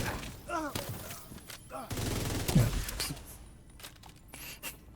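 Bursts of gunfire in a video game, with sharp rapid shots and a sustained volley in the middle, mixed with game sounds and voices talking over it.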